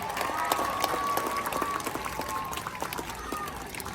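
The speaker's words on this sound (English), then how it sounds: "let's give one last big round of applause for Clark, everybody." An outdoor crowd applauds at a sea lion show at the New York Aquarium in Coney Island, with soft, scattered clapping carrying at a distance under a faint whistle-like tone and ambient noise.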